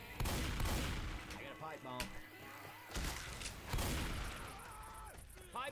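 Gunfire and a pipe bomb blast in the video game Left 4 Dead 2: bursts of sharp shots and heavy thuds recur in several clusters, mixed with voices speaking between and over the firing.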